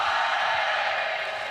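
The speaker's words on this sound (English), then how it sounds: "Massive fans at the top there, and even just having those people watching, shouting, cheering" Spectators at a women's skeleton race at the 2015 World Championships in Winterberg shout and cheer in a steady, distant wash of crowd noise that holds at an even level throughout.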